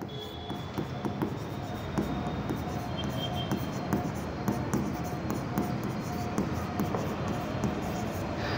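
Pen on paper scratching while accounting entries are written, faint irregular strokes and taps over a steady room hum, heard alone without talk.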